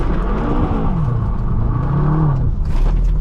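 A BMW M6 drifting, its engine revving and whirring loudly up close with rising and falling pitch and a steady roar of tyre and road noise underneath, no voices.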